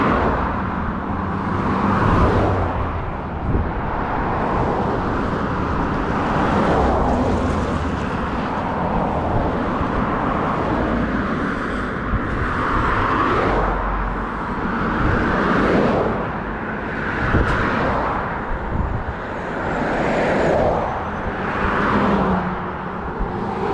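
Road traffic roars steadily beside a person walking along a fenced neighborhood street, with passing vehicles swelling and fading in repeated surges of broad noise.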